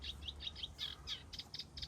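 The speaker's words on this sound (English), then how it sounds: "So reed warbler." A reed warbler sings beside a canal near a marina, its chirpy, scratchy phrases repeating in quick bursts against a steady low rumble, moderately faint and with no voices.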